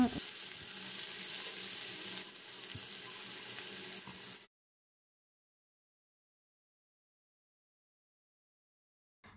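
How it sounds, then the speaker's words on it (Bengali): Chopped onions frying in oil with a bay leaf for a raw jackfruit curry, giving a steady, close hiss and sizzle for about four and a half seconds before cutting to silence. "পেঁয়াজটা আমি কিছু সময় ভেজে নিব, তবে একদম লাল লাল করে ভাজবো না।"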